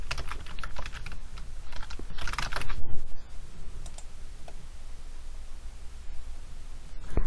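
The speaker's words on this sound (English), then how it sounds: "you'll go ahead and enter in your username and password" A computer keyboard is typed on to enter a username and password, with a quick burst of close keystroke clicks at first, then a few sparse taps over a faint background hiss.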